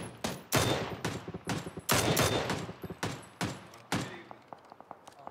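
Gunfire in an online shooter game: a string of sharp, loud shots in uneven bursts, some rapid and clustered, others spaced out, fading to lighter scattered pops near the end.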